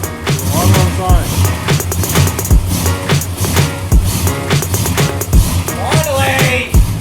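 A 1992 Ford Falcon EB engine, previously flooded from sitting, runs with a rough, uneven idle and repeated low thumps, loud and close, with voices talking over it.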